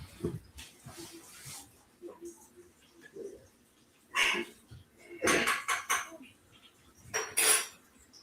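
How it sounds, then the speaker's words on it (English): Spoon and other silverware being washed at a kitchen sink, with several bright metallic clinks and rattles in separate bursts, some close and fairly loud, between stretches of quieter kitchen noise and a voice talking. "Wash that spoon off. That's why I never put silverware in it."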